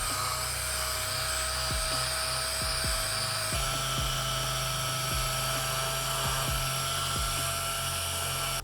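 Power sander with 320 grit working plastic, a continuous high-pitched buzzing whine with a steady motor drone, interrupted by brief scraping strokes as the sander presses the surface.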